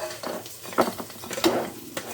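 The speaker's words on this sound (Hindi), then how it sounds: "अब मैं इसमें गोश्त को डालूँगी इस टाइम पे।" Lamb pieces dropped into a pan of browning onions and tomatoes for a karahi curry, giving soft sizzling with scattered stirring clatters and utensil knocks, fairly quiet and close.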